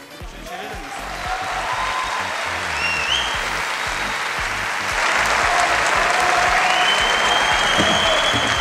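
Sustained applause and cheering from a crowd at a celebration welcoming Turkish footballer Cenk Tosun, loud and steady throughout, swelling slightly louder toward the end, with some voices mixed in.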